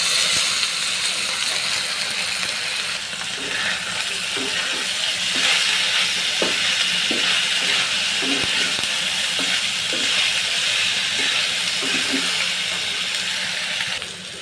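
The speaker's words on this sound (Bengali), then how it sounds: "আলু দিয়ে দিলাম করলা ভাজির জন্য। করলাটা দিয়ে দিচ্ছি।" Potatoes and bitter gourd frying in a pan, a loud, continuous sizzling hiss with soft, irregular clinks of a spatula stirring through it, close and steady.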